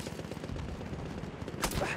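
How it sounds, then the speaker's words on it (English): Gunfire in the video game Battlefield, a dense patter of shots in a fight with a sharp crack near the end, player voices mixed faintly underneath. "No, I'm getting sniped!"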